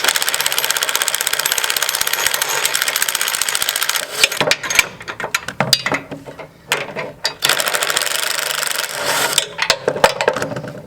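A power tool or ratchet loosening bolts on the front main hanger of a Toro Grandstand Multiforce mower deck: a loud continuous buzzing whir for four seconds, then choppy bursts of ratcheting and rattling metal, close up.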